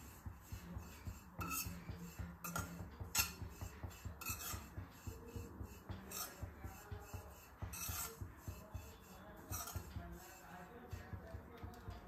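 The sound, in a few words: utensils clinking while roasting dried coconut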